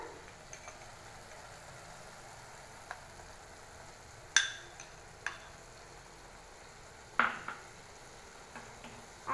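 Gravy with poppy seed paste simmering and being stirred in a pan, a low steady sizzle under occasional sharp clacks of a spoon against the pan, spaced irregularly a few seconds apart.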